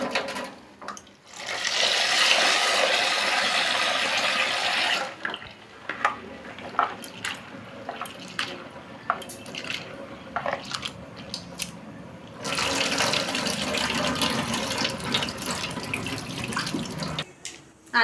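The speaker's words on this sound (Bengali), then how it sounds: "ডালটা আমি এখন পরিষ্কার করে ধুয়ে নিচ্ছি" Tap water runs into a bowl while lentils are washed by hand, with a steady pour at the start, swishing and clinking in between, then the flow again, close and alone.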